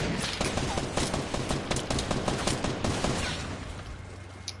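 Rapid bursts of gunfire in a Fortnite match, dense overlapping shots firing continuously for a few seconds before thinning out near the end.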